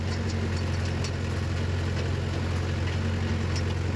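Steady low hum of a Mahindra 575 DI tractor engine running at a constant idle, droning evenly without change for the whole stretch, with no voices present.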